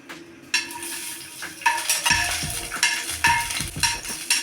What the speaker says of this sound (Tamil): நெய் சூடானதும் அஞ்சாறு முந்திரி பருப்பும் அஞ்சாறு காஞ்சி திராட்சையும் எடுத்து வச்சுருக்கேன் இதில் போட்டு வறுத்துப்போம்